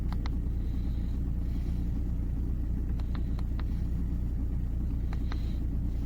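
An Audi A4 B6 TDI Avant diesel idles with a steady low rumble, joined by a few sharp clicks and taps from close by.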